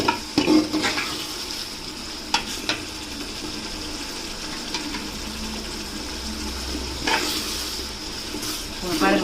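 Masala for Salem-style dum chicken biryani sizzles and fries in oil in a pot, a steady crackling hiss with occasional stirring scrapes and clinks, close up and without talk.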